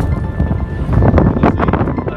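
Cold wind gusts on a lake island buffet the microphone in loud, rough rumbling bursts that build and fade over a couple of seconds.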